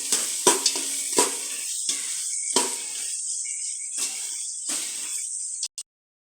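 Onions sauté toward golden brown in a hot pan, with a bright continuous sizzle broken by several sharp stirring scrapes and knocks, ending abruptly.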